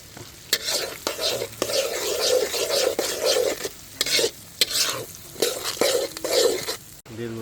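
Boiled, chopped garlic sizzles in a small amount of oil in an outdoor family picnic pot, with a steady crackle broken by repeated scraping stirs of a spoon against the pan.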